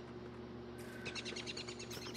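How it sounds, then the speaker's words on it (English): Birds chirp in the game Don't Starve, quick repeated tweets that come in partway through over a steady low background hum. "Oh, I can't attack the birds."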